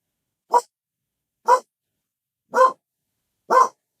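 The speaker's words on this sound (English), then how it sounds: "Ella, that's what the dog's barking." A dog barks four times, each a single sharp, close bark about one second apart, with near silence between them.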